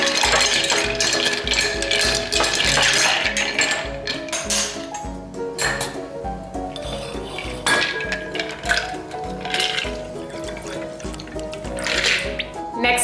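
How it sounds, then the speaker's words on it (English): A Rob Roy made with Scotch whisky and Angostura bitters is stirred in a glass, giving close, rapid clinking and rattling of ice that keeps going with uneven loud and soft stretches. "I'm going to do 2 dashes of Angostura Bitters, and then I'm going to be stirring it."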